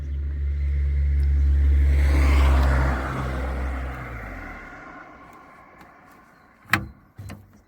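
A car swells in as it passes on the road, then fades away, heard from the seat of a modified solar-assisted Alleweder A4 velomobile, followed by a couple of sharp knocks.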